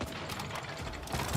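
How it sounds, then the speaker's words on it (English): Quick mechanical clicks and ratcheting of a weapon being reloaded in the survival shooter Once Human, short and fairly quiet over a low background hum. "Very unlucky reload there, right? Very unlucky reload."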